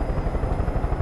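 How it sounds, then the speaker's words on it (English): A helicopter in the video game Far Cry 5: its rotor thumps in a steady, rapid rhythm with a low engine drone, loud and close. "Those are not healthy helicopter sounds"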